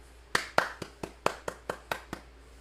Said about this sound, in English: Everyone give Rob a round of applause.